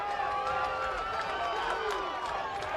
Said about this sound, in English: And this crowd is alive here in Pullman.